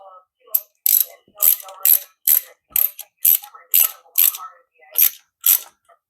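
A hand ratchet clicks in a run of about ten short, sharp bursts while bolts are screwed into the clutch of a Yamaha Grizzly 660 ATV. The sound is close and crisp with brief pauses between strokes.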